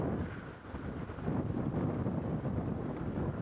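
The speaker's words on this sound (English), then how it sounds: "it's so windy, you can hear the wind howling." Strong wind roaring and buffeting across the microphone during an evening safari drive, a steady broadband rush that swells louder midway and holds, with no voices.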